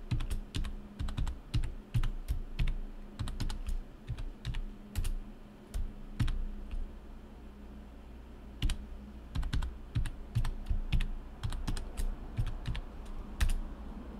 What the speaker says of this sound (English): I'm going to put a password in here